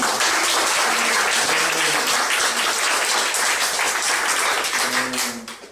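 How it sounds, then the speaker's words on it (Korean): Audience applause opening a startup and networking forum, loud dense clapping sustained for several seconds before fading out at the end. "1인당 10배의 크기의 박수를 치면서 시작을 하도록 하겠습니다"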